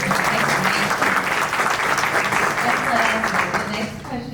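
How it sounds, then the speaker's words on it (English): A conference audience claps steadily and loudly throughout, a dense, sustained wash of applause from a seated crowd at a Black men's mental health conference in Houston. "You can go ahead and clap"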